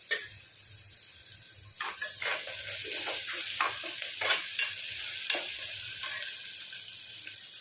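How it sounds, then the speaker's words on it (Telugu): Ginger garlic paste fries in hot oil while being stirred in a pan, a continuous bright sizzle with repeated scraping stirs, close and without talk. "ఒక 2 నిమిషాలు వేగనియండి అల్లం వెల్లుల్లి పేస్ట్ని అయితే"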